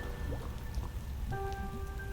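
Rain patters steadily on surfaces in the video game Night in the Woods, an even, close hiss of drops joined by brief soft tonal game sounds.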